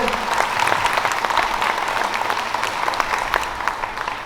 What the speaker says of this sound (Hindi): एक बार तालियां बजा करके हमें बताएं